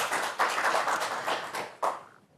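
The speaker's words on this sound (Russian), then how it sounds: "Эти аплодисменты для вас" Steady applause from a crowd, dense clapping with a few louder bursts, fading out toward the end.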